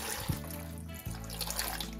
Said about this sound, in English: I'm just going to add water.